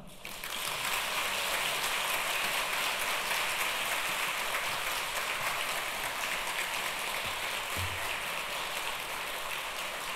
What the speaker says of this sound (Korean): 목사님 사랑합니다 라는 마음을 담아서 우리 목사님 박수로 맞이하겠습니다